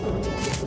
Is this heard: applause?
no